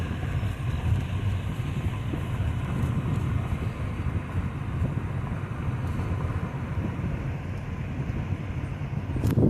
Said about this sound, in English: This line of hoppers is actually so long it actually goes over the switch.